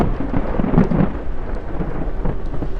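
A thunderstorm with wind and rain, heard from an open doorway: a steady, loud wash of rain and wind with low rumbling thunder swelling near the start, with no voices over it.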